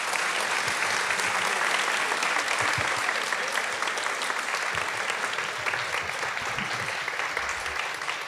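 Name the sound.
audience applause for the panelists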